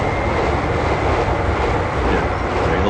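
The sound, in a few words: train crossing railway bridge near Oosterbeek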